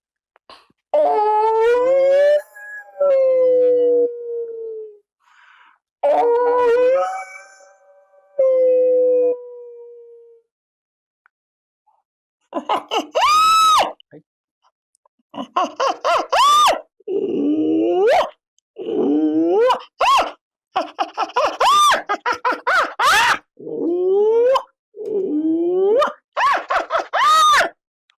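A human voice imitates a hyena with a series of loud, close whooping howls and yelps, some drawn out and others clipped and bursting in rapid succession, separated by short silences.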